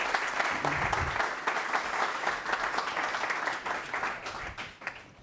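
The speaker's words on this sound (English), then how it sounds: "Let's give them all a round of applause," A round of applause for panelists at a defense and Arctic policy session, dense overlapping clapping that stays steady and then thins out and fades near the end.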